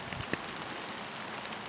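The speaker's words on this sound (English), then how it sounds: "it's starting to rain again" Rain begins falling outdoors as a soft, continuous patter of drops, steady and fairly faint, with one brief louder tap.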